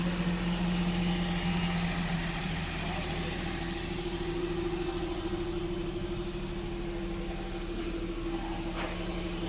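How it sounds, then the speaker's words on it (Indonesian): A 2012 Suzuki Karimun Estilo car's engine idles smoothly in a steady, even hum with a low tonal drone, heard nearby at moderate level and without interruption. "Mesinnya udah nyala, halus banget mesinnya."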